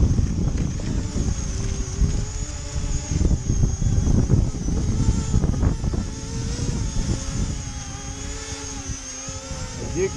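E-flite Convergence electric aircraft motors rev and surge during a hover test in strong, gusty wind, a continuous fluctuating whine over heavy low wind buffeting that swells and eases throughout.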